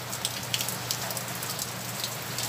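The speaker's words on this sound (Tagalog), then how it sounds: "Tignan nyo na ulan." Steady rain patters on surfaces in a small garden, a dense, even hiss with scattered sharper drops, constant throughout and with no voices.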